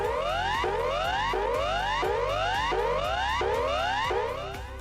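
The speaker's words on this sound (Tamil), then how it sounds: "புதிய ஆர்டர் அசைன் ஆகும் போது நீங்கள் கேட்கும் அலர்ட் இது." Zepto app new-order-assigned alert: a looping electronic tone with rising sweeps repeating about every 0.7 seconds, steady and loud, with no talking.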